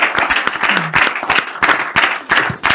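Audience clapping for Dr. Chris Otabor, loud, close, irregular hand claps from a small group, continuous without speech.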